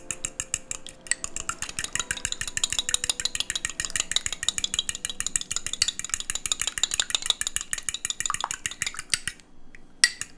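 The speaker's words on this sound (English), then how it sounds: "we're going to grab our egg and we're going to whisk it." Egg whisked briskly in a bowl, a fast steady run of rapid clinking taps of the whisk against the side lasting several seconds, loud and close, stopping near the end with a final clink.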